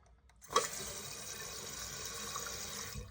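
Water rushes in steadily after a sudden start, a toilet tank running and refilling on its own, as if the water level dropped, constant and close for a few seconds.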